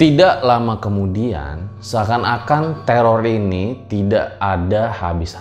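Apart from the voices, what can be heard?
None of the usual background noises is heard.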